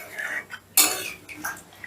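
A spoon scrapes and clinks against a cooking pot as chicken is stirred after spiced water with cardamom and cinnamon goes in, with a sharp metallic scrape midway and softer knocks around it.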